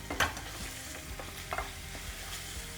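Ginger garlic paste with turmeric frying in a pan for paneer burji, giving a quiet, steady sizzle with a few sharp stirring scrapes near the start and middle, no voices.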